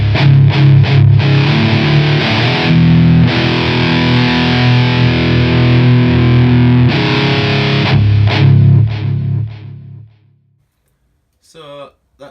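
An electric guitar runs through a Boss Metal Zone distortion model with a noise gate on a Mooer GE200, heavily saturated chugging chords and sustained riffs played loud and close, then cutting to silence before a brief burst of talking.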